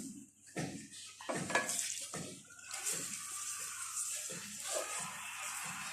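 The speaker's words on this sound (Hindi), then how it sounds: "मुसलसल हलवे को हिलाते रहें।" Semolina and coconut halwa is stirred in a pot with about a litre of added water, giving irregular wet scraping and sloshing strokes against the metal, close and moderately quiet.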